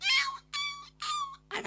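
During an Isra Mi'raj commemoration lecture, a man imitates a kitten's meow with his voice: three quick, high, close meows in a row, then a brief rougher sound right at the end.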